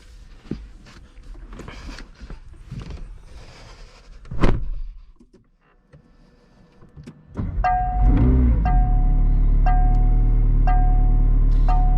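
A 2021 McLaren 765LT supercar starts and pulls away, a sharp mechanical whir and thump giving way to a loud, steady engine drone with a high ringing tone, heard from inside the car.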